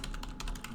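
A quick run of keystrokes on a computer keyboard while a search is typed, several crisp taps close by in under a second with no voices.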